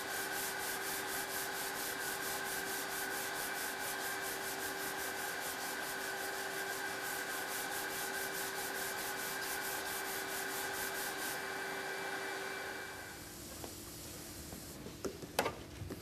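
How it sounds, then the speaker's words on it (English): Hand sanding with P180 sandpaper across a damaged, filled area of a car body panel gives a steady, close, continuous rubbing rasp. It runs evenly for about thirteen seconds, then stops, leaving faint handling noises. "The damaged area is now sanded with P180 sheets to refine the finish."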